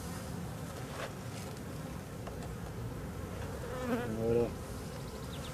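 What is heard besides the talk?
honeybees buzzing in a drone-laying hive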